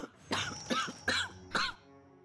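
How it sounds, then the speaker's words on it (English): A woman coughs four times in a short, raspy fit in the video game Pillars of Eternity 2: Deadfire, each cough sharp and close, trailing into a quiet breath. "she chuckles herself into another coughing fit"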